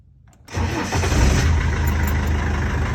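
A Land Rover Defender V8 petrol engine cranks and catches after a short quiet moment, then settles into a loud, steady, rumbling idle close by.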